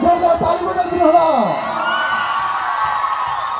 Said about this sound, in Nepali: सबैलाई जोरदार ताली बजाइदिनु होला